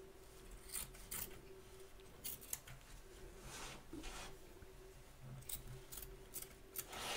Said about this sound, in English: Trim away the excess batting from around the edge of the stitch line, taking care not to cut any stitches.